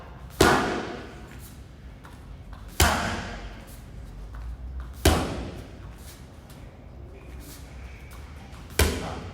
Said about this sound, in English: And now the power uppercut.